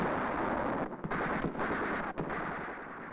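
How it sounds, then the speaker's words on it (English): Rifle and machine-gun fire from a platoon section acting as firm base during a village clearing exercise, shooting at cottages; a dense, continuous crackle of distant shots with wind buffeting, a few brief lulls, no talk. "The section acting as firm base is firing on the red cottages to the right of the advance."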